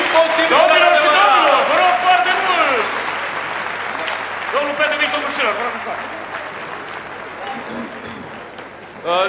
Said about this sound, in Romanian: Aplauze! Aplauze!